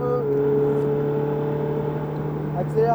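A Ferrari car engine hums steadily at moderate loudness while accelerating gently, its pitch holding fairly level with a slight lift near the end, close by.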